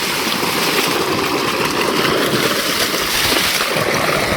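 Water from a solar-powered pump on a farm gushes in a steady, continuous rushing stream, close and fairly loud with no talk over it.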